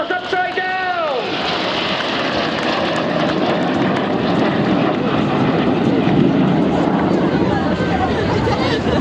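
Red Arrows Synchro pair jets flying past inverted at the Eastbourne Airbourne airshow, a loud sustained engine roar with a falling whine early on, steady and broad, with crowd chatter faintly underneath.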